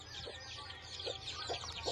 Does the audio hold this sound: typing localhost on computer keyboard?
no